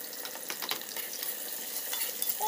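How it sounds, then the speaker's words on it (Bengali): Onions fry in a pan with cardamom, black cardamom and cloves, giving a steady close sizzle with light stirring scrapes throughout and no talk. "এখন পেঁয়াজটা ভাজে নেবো ভালো করে"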